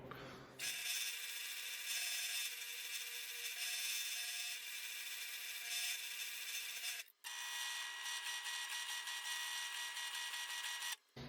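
A power drill bores holes in a knife handle, a quiet steady whirring whine that runs for several seconds, stops briefly, then starts again for another long stretch.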